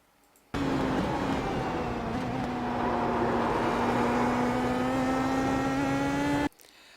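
A car in third gear on the Nordschleife circuit during a lap, its engine holding a loud, steady drone with a rising tone that cuts in abruptly and cuts off just as suddenly after about six seconds, no voices.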